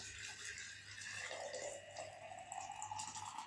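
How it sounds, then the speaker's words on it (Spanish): Freshly boiled hot water pours into a small jug, a soft close trickling splash that shifts in pitch as the jug fills. "en esta jarrita pondremos el agua caliente recién hervida"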